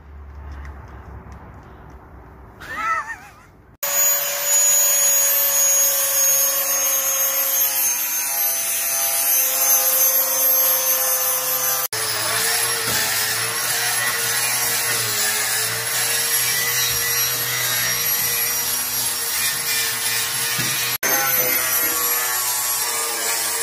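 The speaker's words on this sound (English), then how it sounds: "he's got a grinder" An angle grinder runs at length during a 1UZ engine swap on a Mazda drift car, a sustained high-pitched whine that shifts as it bites into metal, loud and close, with short breaks between cuts.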